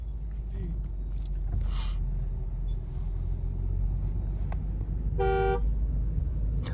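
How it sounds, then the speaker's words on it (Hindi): A car horn blares once near the end, a short loud honk on a road during a driving lesson, over a steady low engine rumble and traffic noise. "लॉन्ग हॉर्न बजाओ"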